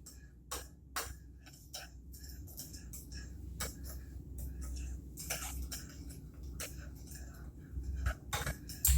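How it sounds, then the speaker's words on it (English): A spoon stirs a sausage and mushroom stuffing mixture in a bowl, producing irregular scraping clicks and taps against the side, close and fairly quiet over a low background hum, with no talking. "Okay, I'm just going to stir this all up."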